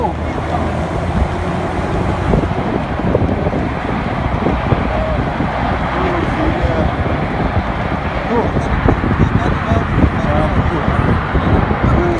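Strong wind near offshore oil platforms roars and buffets the microphone continuously, a dense rumbling gust noise filling the whole stretch, with some engine-like drone beneath.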